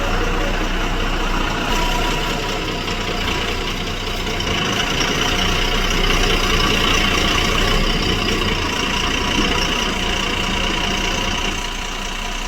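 A trip vehicle's engine idles loudly and close by with a steady, continuous low rumble and no voices.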